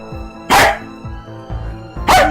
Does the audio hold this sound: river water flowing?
no